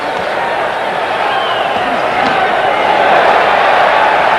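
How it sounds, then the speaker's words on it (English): A largely American boxing crowd roars in a steady, loud wash of yelling as Meldrick Taylor lands a left on John Wanjau, with a commentator's voice running over the noise. "The crowd yells when Taylor scores with a left"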